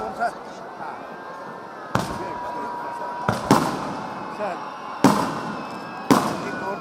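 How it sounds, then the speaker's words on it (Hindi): Fireworks go off at a Dussehra Ramlila celebration, several sharp, loud bangs spaced a second or so apart over a murmuring crowd, with a public-address voice talking throughout. "आतिशबाजी शुरू हो चुकी है"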